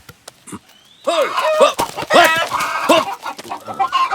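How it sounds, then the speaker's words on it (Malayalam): A chicken clucks loudly and close in a rapid series of agitated calls after a few faint sounds, with no talk. "മുടിഞ്ഞ കോഴി."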